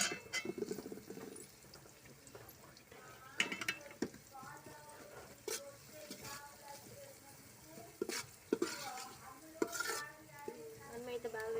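Onions with ginger-garlic paste frying in a pan for chicken curry, a steady close sizzle broken by repeated scraping stir strokes and metallic clinks of a spoon against the pan.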